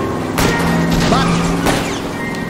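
A car crashes into a tree in the video game L.A. Noire, with two sharp, loud impact bangs over a steady engine and driving hum.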